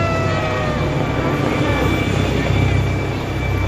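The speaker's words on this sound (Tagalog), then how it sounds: "naglanding yung helicopter" A helicopter landing in Central, Hong Kong, heard as loud, continuous rotor and engine roar with a steady thumping beat and no pauses.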